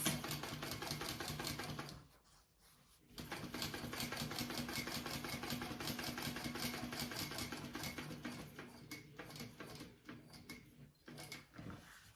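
A sewing machine runs steadily while topstitching along a fabric edge at a narrow seam allowance, a fast even mechanical whir with a brief pause near the start and a few short stops toward the end, close and alone.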